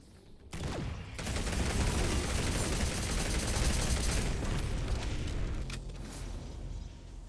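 Rapid SMG fire in the shooter game GTTOD: Get To The Orange Door, a dense sustained burst of shots starting after a brief lead-in and running loud and continuous for several seconds, with no talk over it.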